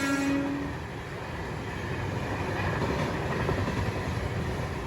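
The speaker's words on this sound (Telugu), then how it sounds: "ధౌలి ఎక్స్ప్రెస్ అనుకుంటా" A passing Dhauli Express train near Balasore, a short horn blast at the start followed by a continuous loud rolling rumble of wheels and carriages.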